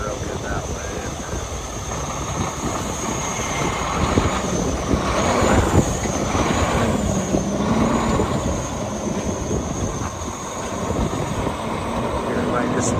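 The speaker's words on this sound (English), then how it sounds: "Here, might just spin around the lot, come back to you." A 2014 Mack Pinnacle CXU613 truck driving around a lot, its engine a continuous heavy rumble that swells and eases with shifting pitch, with faint whines rising through it.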